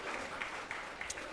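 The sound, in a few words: applause for Jesus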